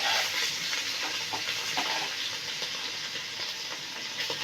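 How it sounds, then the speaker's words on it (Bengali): Prawns frying in a pan, salted first, give a steady, close, loud sizzle of hot oil with a dense hiss and small pops throughout, and no voices. "চিংড়ি মাছটা একটু ভাজা হয়ে গেলে"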